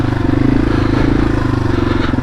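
A Yamaha TW200 dual sport motorcycle rides off-road with a loud, close, rhythmically pulsing single-cylinder engine chug, alongside light clattering from the trail.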